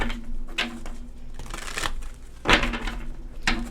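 Tarot cards are shuffled by hand, giving a steady papery riffle with a few sharper slaps and flutters over several seconds, close by, with no talking.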